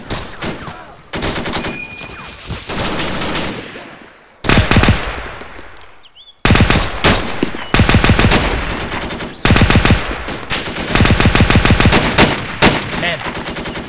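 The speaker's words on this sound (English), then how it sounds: "Machine gun." Machine gun fire in the video game Invasion 1944: loud, close bursts of rapid automatic shots, several sustained volleys separated by short pauses.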